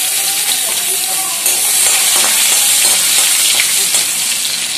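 Loud, steady sizzling and crackling of chopped garlic frying in hot oil, with occasional stirring clinks, close up.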